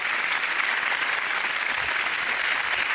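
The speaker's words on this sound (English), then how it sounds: "Give them all a round of applause, ladies and gentlemen." A studio audience at the end of a TV comedy panel show claps continuously, a dense, even wash of applause that holds steady throughout with no talking over it.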